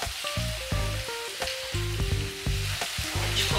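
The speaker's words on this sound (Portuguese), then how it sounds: "eu já vou colocando aqui no fogo também os primeiros para ir fritando" Rice and calabresa sausage balls frying in hot oil on a stovetop, a steady close sizzle with bubbling crackle running throughout, alongside clinks and knocks of kitchen utensils.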